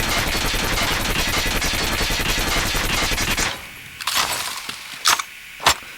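Rapid automatic gunfire from a gun in the video game Call of Duty Mobile, a loud sustained burst for several seconds, followed by a few sharp isolated shots.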